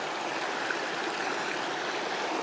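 A stream rushes steadily across a hiking trail water crossing on a backpacking route to Twin Lakes, a dense, even, close wash of flowing water with no voices.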